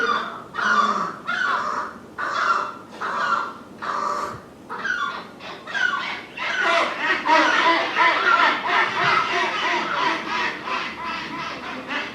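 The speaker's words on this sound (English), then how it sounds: "That's the skuas being angry that there's a gull in their territory." Skuas call harshly and repeatedly at an intruding gull in their territory, loud croaking cries coming in bursts close by, then a denser, overlapping chorus of calls.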